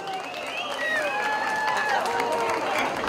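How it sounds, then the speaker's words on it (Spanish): A jaripeo crowd in San Pedro Tres Arroyos, Lalana, Choapam applauds and cheers, a broad wash of clapping and shouts running continuously while an announcer's amplified voice rides over it. "¡Aplauso de la gente de Tres Arroyos!"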